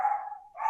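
Two quick, close yaps come from a small doodle dog inside a house, the first bark tapering down before a second one starts right after it, with no voices.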